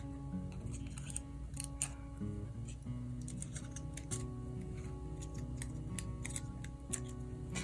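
Scissors snip through craft material for an artificial orchid house plant, a run of short, crisp cuts with steady clicks and ticks over a continuous low background hum.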